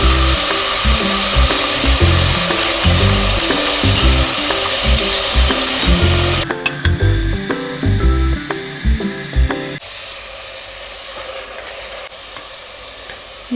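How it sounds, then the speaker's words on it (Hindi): Mutton frying with garlic-ginger paste and onions in a pan, a loud, dense sizzle with stirring scrapes that drops in level partway through and settles to a quieter fry. "इसको हम लहसुन अदरक के प्याज के साथ लहसुन अदरक के पेस्ट के साथ भी भूनेंगे"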